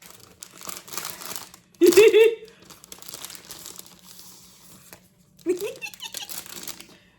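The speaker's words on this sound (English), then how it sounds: "I'm sorry about all the crinkly noise." Plastic packaging crinkles while art print greeting cards are unboxed: quiet rustling throughout, with two louder bursts of crumpling, one in the early middle and a shorter one near the end.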